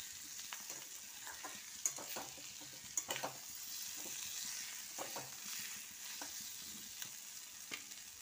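Green chillies with ginger and garlic stir-frying in a pan, a steady soft sizzle with scattered scrapes and clinks from stirring, fairly faint and close, with no voices.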